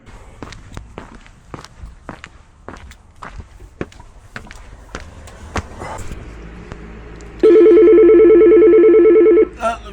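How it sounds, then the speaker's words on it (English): A telephone rings with an incoming call in an IT support office, a loud electronic ring bursting in abruptly near the end after a stretch of sharp, regular footstep-like clicks. "That looks like I've got a phone call."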